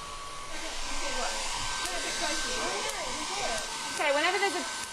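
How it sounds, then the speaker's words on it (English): A hairdryer runs steadily with a continuous whooshing drone during a school electrostatics demonstration, while a person talks over it throughout. "use a hairdryer which will dry out"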